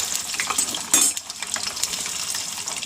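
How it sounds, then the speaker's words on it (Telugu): Ivy gourds (tondakaya) deep frying in hot oil, a steady bright sizzle with short louder crackles and a few utensil clinks, close and continuous, with no voices. "దొండకాయలు వేగుతున్నాయండి"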